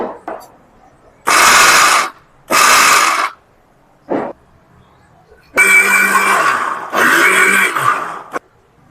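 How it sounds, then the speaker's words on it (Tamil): A mixer grinder whirs in loud bursts, grinding onion, tomato, garlic, fennel, green chilli, cashew and coconut, with several separate runs of harsh motor noise split by short pauses. "இப்போ 4 பொருளையும் போட்டு சோம்பு, பச்சை மிளகாய், இந்த முந்திரி, தேங்காய் எல்லாத்தையும் நம்ம போட்டு அரைச்சி எடுத்துக்கலாம்."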